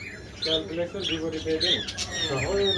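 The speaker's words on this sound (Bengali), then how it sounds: "এখানে অনেক ধরনের বাজরিকা রয়েছে" Budgerigars in a Chittagong bird shop squawk and chatter in a busy, close flurry of repeated calls, with a person talking over them.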